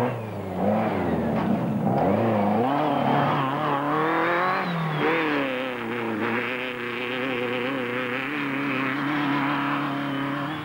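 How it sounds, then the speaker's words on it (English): A four-wheel-drive Range Rover with a failing clutch at an off-road racing event, its engine revving and whining loudly in rising and falling pitch sweeps, with other racing engines droning behind it throughout. "Marsh, the freelance mechanic from Coventry, nursed his 4-wheel drive Range Rover through the final lap with the clutch very much on its last legs."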